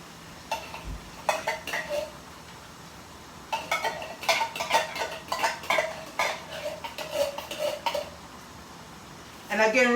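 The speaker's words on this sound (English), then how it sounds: "So we're going to add the mackerel in the pot" Canned mackerel going into a cooking pot with repeated clinks and scrapes of metal utensils against cookware, close and moderately loud, in bursts across the clip with a clatter near the end.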